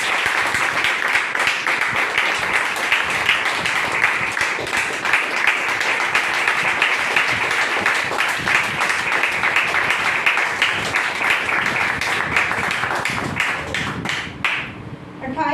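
A congregation at a Sunday church meeting applauding, sustained dense clapping that continues steadily for over ten seconds before tapering off near the end.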